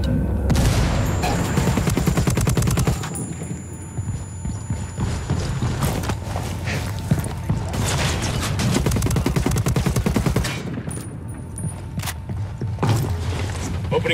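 Sustained gunfire and combat sounds from the tactical shooter video game Ghost Recon Wildlands, loud and dense throughout, with rapid repeated bursts and sharp transients over a busy mechanical background.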